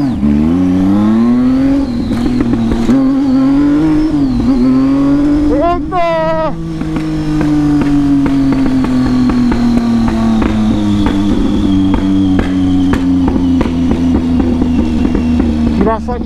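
A Triumph Tiger 800 motorcycle with an open exhaust revs loudly and close up, its engine note swelling and falling with one sharp throttle blip midway, while people talk over it.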